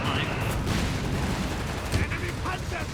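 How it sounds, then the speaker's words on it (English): Mines and gunfire in Company of Heroes 3, a dense rumble of explosions and shots rolling continuously over a few seconds, loud and layered. "Mines exploding as well under the German feet here."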